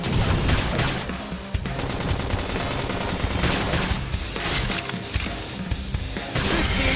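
Heavy gunfire erupts in a Xenoblade Chronicles X battle, a loud, continuous barrage of rapid shots and impacts layered with game sounds, running without pause.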